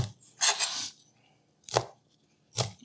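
A sharp Damascus VG10 chef's knife chops through cooked bacon on a cutting board in three crisp, close strokes, one long and two short, with quiet pauses between.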